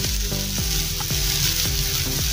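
Spices roasting in a hot pan for an idli recipe, giving a loud, steady sizzle and crackle, with a stirring scrape about every half second, close up and without talking.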